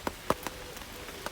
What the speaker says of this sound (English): the rain is letting up now, finally